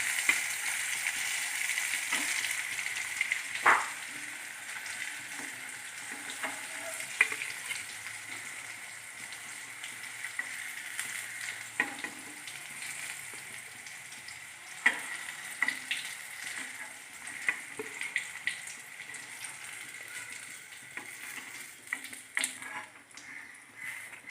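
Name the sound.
bitter gourd frying in a pan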